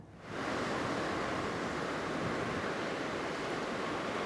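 Rough sea and strong wind roar at Chennai's Marina beach during Cyclone Fengal, a loud, continuous rush of surf and gusting air with no voices.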